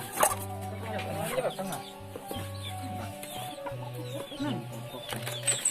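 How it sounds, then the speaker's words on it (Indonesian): Chickens cluck at a Sundanese santri compound during outdoor cooking of nasi liwet, short clucks scattered over a steady low hum, with people talking nearby. "Ayam dari mana itu nih?"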